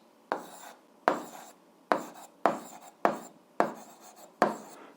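Seven short scratchy strokes of a pen or chalk writing out an algebra solution, evenly paced and close, in a quiet room with no talking.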